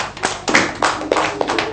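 Group of schoolgirls in a primary classroom clapping for classmates, a few irregular bursts of claps close by, short and uneven rather than sustained.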